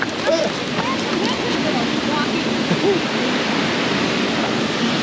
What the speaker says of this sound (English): We're gonna go check out the waterfall.